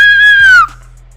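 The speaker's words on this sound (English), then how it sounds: "I'm sorry for screaming in y'all ear like that" A single loud, high-pitched scream from one person rings out close up for about half a second, then cuts off sharply into near silence.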